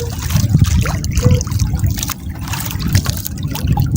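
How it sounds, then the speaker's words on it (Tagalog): Large waves slosh and splash steadily against the hull of a fishing boat, a continuous churning wash with engine-like rumble underneath. "Ang laki ng alon, no?"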